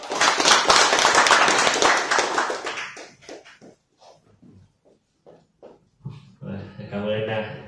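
An audience at a real-estate company event gives loud, dense applause to welcome the southern regional deputy director, filling the first few seconds before fading into someone speaking.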